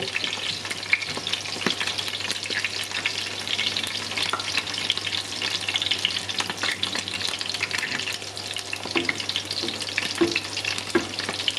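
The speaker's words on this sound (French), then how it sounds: "On va baisser encore un peu la température de l'huile. l'huile, ça gicle et ça brûle." Seitan deep-frying in hot oil, its temperature being lowered: a steady, dense crackling sizzle with scattered pops and spatters runs close and even throughout, with no talk over it.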